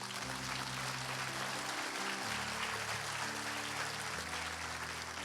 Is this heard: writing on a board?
no